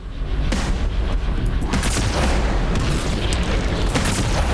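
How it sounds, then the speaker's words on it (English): Wraith alien tank in Halo 2 lobbing mortar-like plasma shells, a dense continuous barrage of deep booms and bursts amid loud battle noise, heavy and close. "the Wraith launches more like mortars than tank shells"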